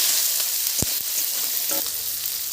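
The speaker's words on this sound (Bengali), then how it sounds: "কাঁচা ছোলাটাও হালকা করে ভেজে নেবো" Raw chickpeas fry in oil with a continuous bright sizzle, and a couple of dull knocks and stirring sounds near the start.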